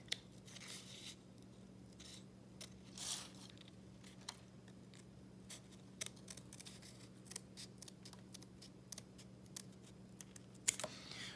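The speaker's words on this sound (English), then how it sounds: "I'm going to cut along this edge very finely." A leather piece trimmed finely along its edge during restoration of a 1586 Renaissance book: faint, close snips and small clicks scattered irregularly over a quiet steady hum, no voices.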